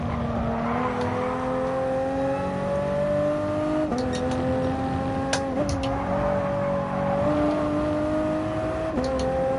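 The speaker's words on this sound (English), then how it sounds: "There's a white line on the right hand side which I'm using as my marker for braking into turn 1." Race car in Gran Turismo on the Laguna Seca circuit, its engine droning steadily with rising pitch under acceleration, then dropping sharply at shifts or braking around four, five and nine seconds, continuous and close with no talk.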